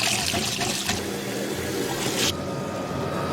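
Sea snail slices are rinsed by hand in a bowl of water, with a steady close splashing and trickling that eases off after a couple of seconds. No one speaks.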